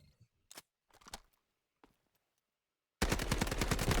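Automatic gunfire from a weapon in the Delta Force video game erupts as a loud, dense rapid burst near the end, after a few quieter scattered clicks and thuds.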